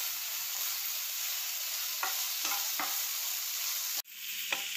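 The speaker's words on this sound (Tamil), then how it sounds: "கழுவி வச்சுருக்க பிரண்டையை இதில் போட்டு நல்லா இதை நல்லா பொன்னிறமாக முதல்ல வறுத்து எடுத்துக்கணும்" Pirandai (adamant creeper) fries in oil in a pan, producing a continuous close sizzle with a few stirring scrapes and a brief dip near the end, with no voices.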